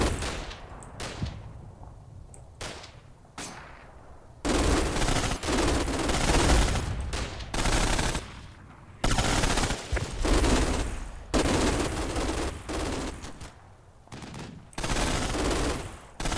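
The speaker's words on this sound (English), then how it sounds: "That was the 50 cal firing." A .50 cal machine gun fires in the Combat Mission wargame during a fight at Lanzerath Ridge, with repeated sustained bursts of rapid gunfire set apart by brief quieter gaps and distant shots.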